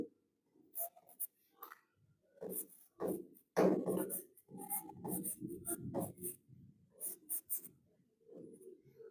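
Pen or marker writing by hand on a surface, heard as a close series of short scratching strokes in uneven bursts, with no talking over it.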